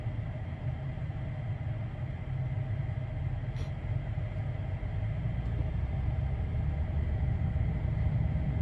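A 2024 Tesla Cybertruck Foundation Series rolling slowly around a parking lot, heard from inside the cabin as a low, even rumble and broadband road hiss, steady and fairly quiet throughout with no voices.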